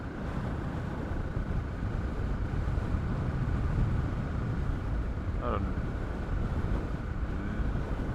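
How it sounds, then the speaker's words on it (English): Wind gusting through the Meiringspoort gorge in South Africa against a motorcycle rider as a headwind, a steady, dense roaring rumble that fills the whole stretch without letup. "the wind is pumping a bit through here, and I'm unfortunately have a bit of a headwind"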